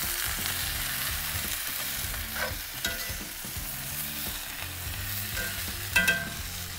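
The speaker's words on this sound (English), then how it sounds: "The next step is to add the tomatoes into the sauteed vegetables. And just give them a good stir." Tomatoes are stirred into sautéed vegetables in a pan for birria, with a soft continuous sizzle and occasional scraping, clacking stirs under a low musical backdrop.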